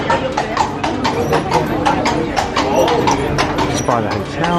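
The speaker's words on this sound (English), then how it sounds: "the horse and carriage ride is just coming through here now" A horse-drawn carriage clip-clops along a street in Bruges, Belgium, near a hotel, with steady hoofbeats ringing close and loud amid busy street noise and people talking.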